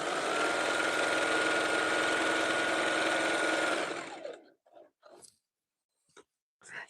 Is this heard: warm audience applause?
no